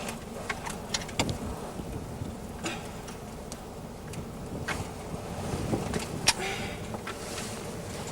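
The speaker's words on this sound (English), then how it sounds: "The strong wind coming from the cave entrance gives a good indication of the possible chamber size" Strong wind gusts out of a cave entrance on the Nullarbor, a low, rough rumble buffeting the microphone, with scattered clicks and knocks from movement nearby.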